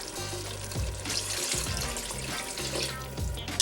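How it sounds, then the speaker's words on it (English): Water is poured into a pot of beef curry on the stove, a close, splashy, gurgling stream with low sizzling underneath and a few pulsing surges as the pouring goes on. "I'm going to add a couple of cups of water"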